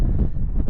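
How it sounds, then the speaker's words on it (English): Strong wind buffets the microphone on a hiking trail, a brief heavy low rumble with no other sounds. "It's been really windy"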